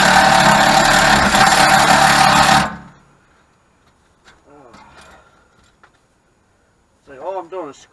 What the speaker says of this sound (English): So all I'm doing is scratching the frame.